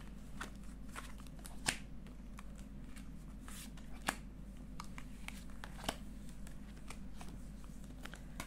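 Tarot cards shuffled by hand up close, a soft steady riffle and slide of card stock with a few sharper snaps, quiet over a low background hum.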